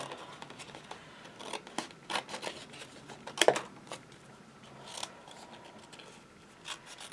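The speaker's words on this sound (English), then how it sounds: "I think this is the only other one I'm going to cut out" Scissors snipping through a paper ephemera card while preparing a mini album, with a few quiet crisp cuts and paper rustles, one sharper snip standing out midway, close and faint, with no talking.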